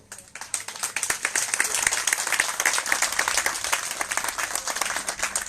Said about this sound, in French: Cet applaudissement, c'est peut-être pour le juge, pas pour moi.